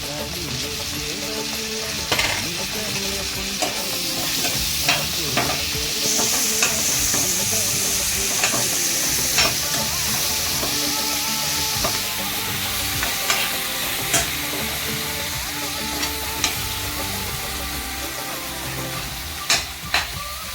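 Tomatoes, dried fish and onions fry in a pan on a gas stove for a ridge gourd curry, giving a continuous close sizzle broken by repeated scrapes and clinks of a stirring spoon.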